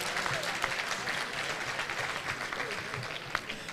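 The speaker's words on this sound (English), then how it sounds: "Can we give a round of applause again?" An audience at a public lecture gives a steady round of applause, many hands clapping in a dense, even patter that is moderately distant and sustained throughout.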